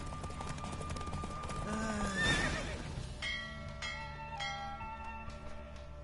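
Horses galloping with hooves clip-clopping and a loud neigh midway during a race in the video game The Witcher 3, with chiming bell-like tones and music entering in the second half.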